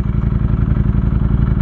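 A Ducati Streetfighter V4S being ridden gives off a loud, steady, throbbing engine drone with a fast, even pulse, close up and uninterrupted for the whole short stretch.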